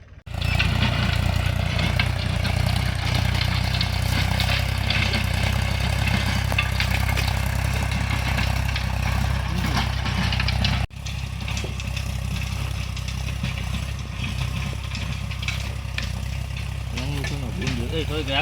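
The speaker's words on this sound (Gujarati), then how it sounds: "ટ્રેક્ટર હાલે છે મસ્ત મજાનું" A tractor engine idles and runs steadily on a farm during onion planting, a loud continuous mid-pitched drone throughout with a brief dip partway, while voices talk over it.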